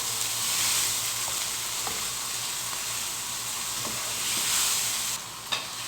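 Masala with tomato paste cooking in a pan for chicken handi, a soft continuous sizzle with occasional faint stirring clicks, no talking.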